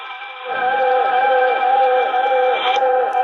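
Panasonic RF-2400D AM/FM radio tuned to AM 1080 WNWI, a steady band-limited broadcast with a tonal hum and faint distant voice or music, continuous and fairly loud with slight fading.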